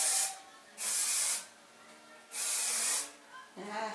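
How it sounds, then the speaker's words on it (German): Hairspray hisses from an aerosol can in two bursts, each about half a second long, then a longer burst, close and crisp, with a voice speaking briefly at the end. "hier mal Haarspray sprühen"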